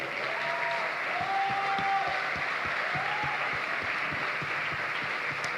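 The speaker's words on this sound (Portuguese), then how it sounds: "Vamos aplaudir o Rei." A church congregation at a gospel concert applauds steadily and evenly, a dense wash of clapping with faint voices underneath and no break.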